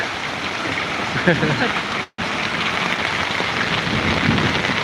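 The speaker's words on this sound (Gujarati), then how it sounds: "કરા પડે છે કરા જબરજસ્ત કરા પડે છે વરસાદમાં કરા સાથે જબરજસ્ત વરસાદ" Heavy rain mixed with hailstones pours down in a dense, loud, continuous hiss that cuts out for a split second and then resumes.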